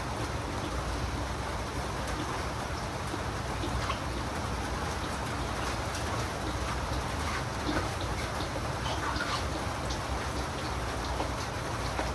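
Steady rain falls on surfaces outdoors, a dense even patter with no breaks, moderately quiet and without speech.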